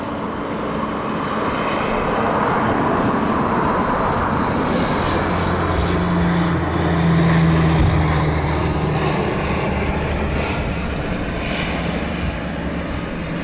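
Aircraft engine noise from a plane approaching East Midlands Airport at night, a steady broad roar that swells slightly toward the middle and holds for the whole stretch, with no voices.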